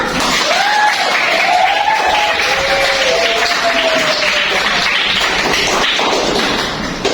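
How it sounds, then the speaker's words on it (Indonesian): A classroom of people claps loudly and continuously after group presentations, dense applause with a few voices and whoops rising above it. "Tepuk tangan untuk semua."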